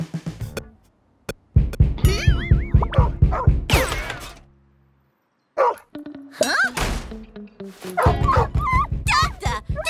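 A cartoon cat character barks like a dog, with a voice actor imitating repeated rhythmic barks and whimpers, interspersed with other excited character voices and sound effects.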